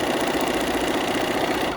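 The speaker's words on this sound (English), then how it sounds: "And then I'm going to continue sewing" A domestic sewing machine runs steadily, stitching straight through fabric up to the edge, with a close, continuous motor whir and needle chatter until it stops abruptly at the very end.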